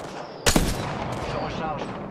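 Sharp gunshots in the Apex Legends video game, a loud close report followed by scattered further shots and a final crack, over a steady background of game ambience.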